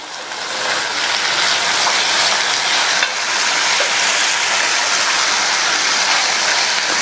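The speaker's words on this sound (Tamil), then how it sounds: "இந்த பீன்ஸ் வெங்காயத்தோட சேர்ந்து 2 நிமிஷத்துக்கு வதங்கட்டும்." Beans with onion and chopped tomato sautéing in a pressure cooker pan, a steady loud sizzle and frying hiss with occasional stirring scrapes running continuously throughout.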